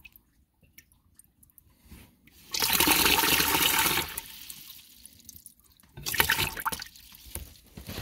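A toilet cistern refills through a repaired ball cock valve, with loud rushing water for about a second and a half, then a quieter trickle and a second shorter gush. No one speaks.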